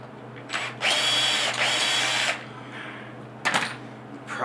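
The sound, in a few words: power drill countersinking holes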